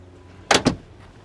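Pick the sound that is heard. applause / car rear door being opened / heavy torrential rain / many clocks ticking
car rear door being opened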